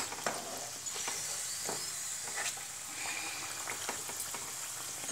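Malpua batter fries in a pan over a high gas flame, a steady close hiss and crackle with occasional stirring scrapes and bubbling pops.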